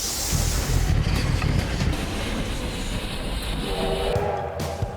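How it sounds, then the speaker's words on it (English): A train rumbles past close by with a loud, steady roar and rattling wheels, and a horn-like tone rises near the end. "Here comes the train"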